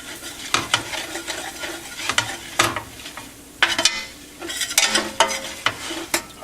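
Spices stirred briefly into sizzling oil for a linguine clam sauce: steady frying hiss broken by repeated sharp scrapes and clicks of a utensil against the pan, close and busy.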